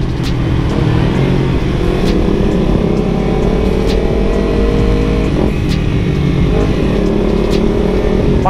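A Kawasaki Ninja 250 FI motorcycle engine idles and revs steadily up close, its exhaust giving a deep, full rumble with small rises in pitch throughout.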